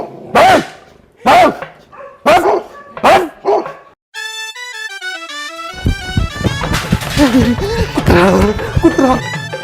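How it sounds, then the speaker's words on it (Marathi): A dog barks four times in sharp, loud, evenly spaced bursts, then a descending tonal musical sting plays and busy comedic music follows. "कुत्रा कुत्रा कुत्रा."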